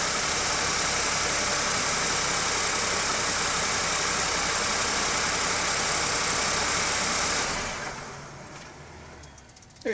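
A Ford car's engine, started remotely from a phone app, runs at idle with a steady, loud, broad mechanical hum and rush, then drops away to a quieter tail near the end.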